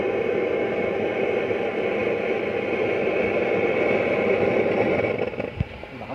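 A homemade waste-oil burner stove built from thick steel roars with a strong flame, a loud, constant broadband rush that holds steady throughout and dips slightly near the end.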